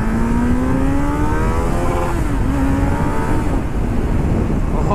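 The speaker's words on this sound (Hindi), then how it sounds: "और भाई अपनी बाइक तो कुछ ऐसी भाग रही है" A Kawasaki Z900 motorcycle rides along Marine Drive in Patna, its engine droning steadily with a rising then dipping pitch under a constant rush of wind, close and loud.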